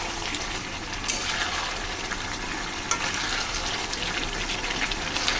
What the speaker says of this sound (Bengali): ভেজে রাখা মাছগুলো দিয়ে দিলাম। মাছ দিয়ে একটু হালকা কষিয়ে নিচ্ছি।